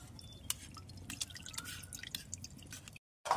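Water drips and splashes in quick irregular drops while freshly curdled chhana is rinsed, close and fairly loud, ending in a brief silence and one last splash.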